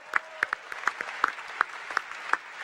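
Sparse, scattered claps from a university commencement audience, a dozen or so distinct hand claps spread unevenly over a few seconds at moderate distance.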